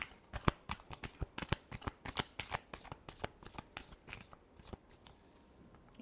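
A deck of tarot cards is shuffled by hand close up: a quick series of crisp riffling snaps and flutters in an uneven rhythm, quiet with no talking.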